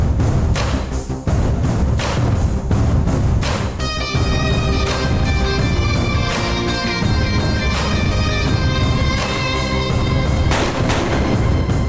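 A long string of firecrackers goes off outdoors in dense, rapid, very loud bursts that run without a break as a continuous crackling barrage.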